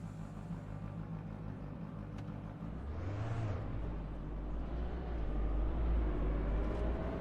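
Car engine in RaceRoom Racing Experience, a sluggish car heard as a steady low drone. A short rising rev swells in the middle, and the rumble builds deeper and slightly louder toward the end.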